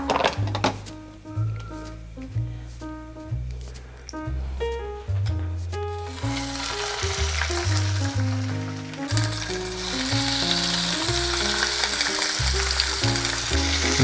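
Squid dropped into hot oil in a pan over medium heat for Korean-style spicy grilled squid, a broad steady sizzle that grows louder, partly under melodic background music.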